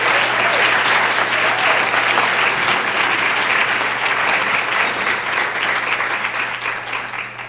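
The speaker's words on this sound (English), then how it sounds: "Please, another warm round of applause for our recognition." Large crowd at a college cultural awareness day recognition applauds warmly, a loud, dense and continuous wash of clapping that holds steady for several seconds before easing slightly.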